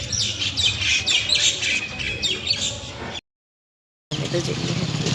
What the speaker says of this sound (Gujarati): અને આ લેબરા પર એટલી બધી ચકલી બેઠી